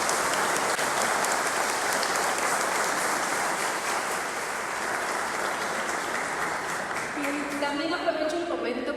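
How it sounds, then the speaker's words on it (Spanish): Applause from an audience at a book presentation fills the room as a dense, steady clatter of clapping, with a voice speaking under it toward the end. "les pido que le demos un gran aplauso"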